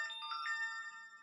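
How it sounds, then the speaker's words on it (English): A phone gives a short bright electronic ringtone or message chime, a clear steady tone that rings alone and fairly faint for about a second. "Your phone's going crazy, babes."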